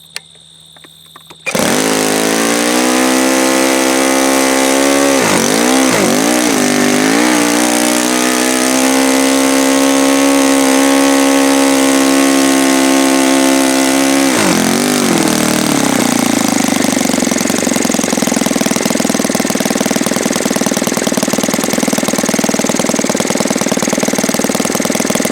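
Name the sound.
OS FS 120S III model engine running with propeller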